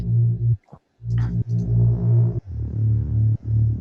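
A synth mid bass built from a custom sampled waveform, used in a chill music track, plays steady sustained notes with a couple of short gaps, loud and close, with no voices.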